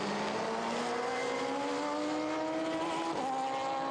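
Supercar Challenge race cars at the Red Bull Ring, ESET Cup 2023, whine past at a distance, one engine note climbing steadily in pitch before dipping briefly, fairly faint and without voices.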